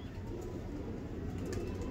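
Faisalabadi pigeons cooing steadily over a dense low rumble, with soft overlapping calls and a constant background hum throughout.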